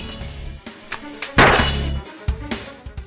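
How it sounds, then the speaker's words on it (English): An explosion punch lands in the video game Saturday Morning RPG, a heavy booming impact after a few lighter thuds, followed by scattered smaller hits. "let's just go and explosion punch him for great justice"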